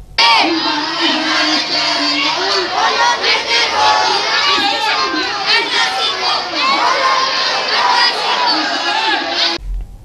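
Crowds and children throng the Basant fair in Bhawani Mandi, a loud, dense wash of excited children's shouting and cheering voices close by, sustained throughout with overlapping cries and chatter before cutting off abruptly.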